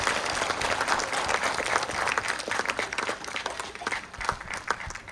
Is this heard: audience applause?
yes